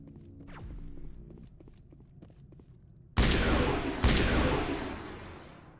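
Gunfire in the video game Mass Effect: two loud, sharp blasts with long ringing decays cut in after quieter footsteps and small clicks.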